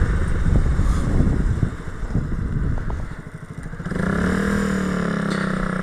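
A Honda Grom motorcycle engine roars loudly while being ridden, rough and throaty at first, then dropping briefly before settling into a steady higher drone with a rising whine.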